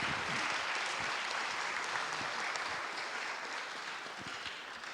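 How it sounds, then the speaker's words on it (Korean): Steady applause from a church congregation at a Sunday service, a dense even patter of many hands clapping that fills the room and fades slightly toward the end. "지금 이 박수는 저에게 보내는 박수는 아니죠."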